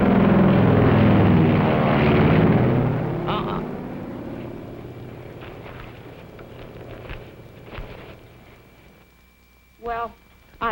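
A propeller airplane engine roars loudly and steadily for the first few seconds, then fades into a distant drone as voices talk over it.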